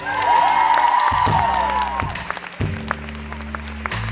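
Concert audience applauding band members at a live show in Grugliasco, sustained clapping with some cheering, loud and continuous before tapering slightly toward the end while sustained instrument tones continue underneath.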